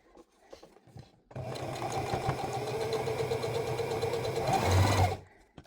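A hand-crank sewing machine stitches fabric for an apron, producing a steady, close, rhythmic clattering run of about four seconds between brief quiet moments.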